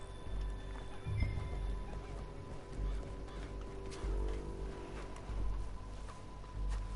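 Horse in Red Dead Redemption 2 whinnying while its hooves clip-clop steadily over ground, with low rumbling movement and faint game ambience throughout.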